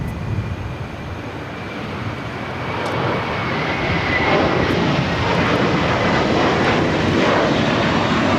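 A passenger jet takes off on runway 25 right at LAX, its engine roar broad and steady, growing louder and closer over several seconds with no one talking.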